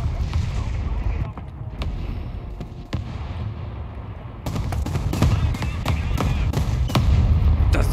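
A Panzer IV F2 tank in the online tank battle game War Thunder fires its cannon amid rumbling engine noise and distant battlefield shots, with several sharp reports scattered through a steady low drone and a voice talking over it.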